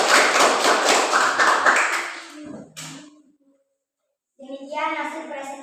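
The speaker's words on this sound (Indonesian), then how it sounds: "Mari kita memberikan tepuk tangan untuk kelompok 1 ya." Students applaud for group 1 in a classroom: a dense burst of clapping mixed with children's voices for about two seconds, a few scattered claps, then a quiet pause before talk resumes.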